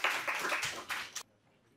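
An audience applauds to welcome a lecturer. The clapping is brief and moderately close, a short burst of many hands that stops abruptly.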